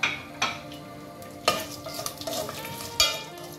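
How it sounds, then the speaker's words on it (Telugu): Lentils, cumin and chilies fry in hot oil in a pan, a close steady sizzle punctuated by a few loud spoon clanks and stirring scrapes. "దీంట్లోకి మనం పప్పులు, జీలకర్ర, మిర్చి వేసి దూరగా వేయాలి."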